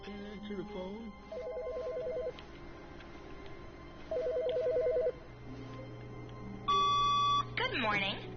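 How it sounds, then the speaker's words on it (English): An old-style telephone bell in The Stanley Parable game rings in repeated short bursts, then a higher electronic tone sounds and a voice starts speaking at the end. "I can't answer the phone."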